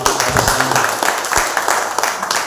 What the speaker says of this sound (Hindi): और एक बार ताली बजाओ